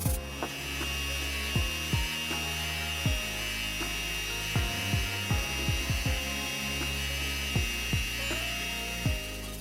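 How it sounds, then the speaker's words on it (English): A power grinder whines steadily, its pitch dipping and recovering again and again as a Damascus knife's glued handle is pressed against it and ground flat, with no talking. "I will go back to the grinder, grind everything flat again"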